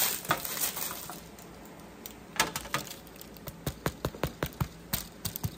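Fingers tap the underside of a freshly baked loaf of Italian herb bread, giving a series of light, hollow knocks, scattered at first and then a quicker run of evenly spaced taps near the end, close and alone.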